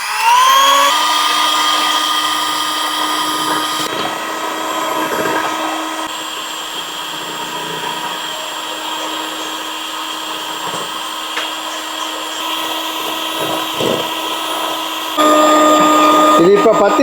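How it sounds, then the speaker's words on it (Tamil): An electric beater whips a hot melted marshmallow mixture of gelatin and sugar syrup in a bowl, a steady high whine running loud and continuous with slight pitch shifts as the mixture thickens and the speed changes. "இதை அப்படியே இறக்கி வச்சு சூட்டோட பீட் பண்ணி எடுத்துருவோம்."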